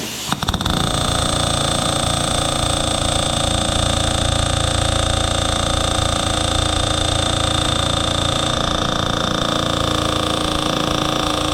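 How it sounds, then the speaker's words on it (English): Pneumatic air hammer pounding steadily on the back side of a steel wheel rim of a Craftsman lawn utility vehicle during a tire upgrade, a loud continuous rapid hammering with engine-like drone, close by with no talk. "I got the air hammer on the back side of it."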